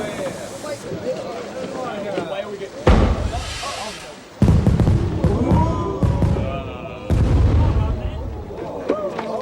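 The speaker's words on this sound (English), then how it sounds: "He loves fireworks, he does." Fireworks bursting in loud, broadband booms with crackle, three or four big blasts spaced a second or two apart, a noisy crowd chattering underneath throughout.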